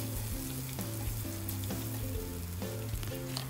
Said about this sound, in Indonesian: Kita tumis bumbu halusnya.